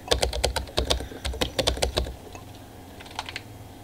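Rapid bursts of computer keyboard typing during a PC game, loud and close for about two seconds, then a quieter short flurry of keystrokes after a pause.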